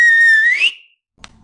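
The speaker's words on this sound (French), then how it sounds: "Soudain, quelqu'un a sifflé." A single clear whistle from a person, a sustained note that slides upward and cuts off, followed by silence and a faint brief click.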